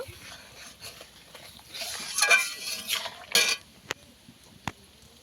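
Milk with sugar being stirred continuously in a pot as it heats and thickens; a utensil scrapes and clinks against the pot in uneven bursts, ending with a couple of sharp taps.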